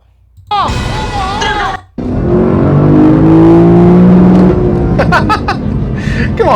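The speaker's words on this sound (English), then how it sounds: "Come on, a car that goes off the rev limiter like that." Lexus LC500 V8 engine revving hard up to the rev limiter, a loud sustained roar with bouncing limiter tones, following a brief burst of high-pitched sound and a short gap.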